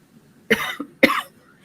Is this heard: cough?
yes